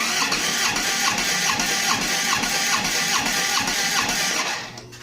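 Engine cranking during a cylinder compression test, the starter turning it over with the throttle wide open. A steady, rhythmic churning pulse runs close and loud for about four seconds, then cuts off, with no talking.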